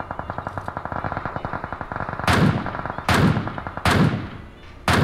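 Rapid automatic gunfire rattles through a match of PUBG Mobile, a steady stream of quick shots broken by several louder, heavier blasts that ring out with echoing tails, close and loud throughout.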